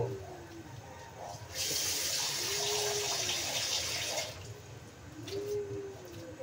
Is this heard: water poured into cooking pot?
yes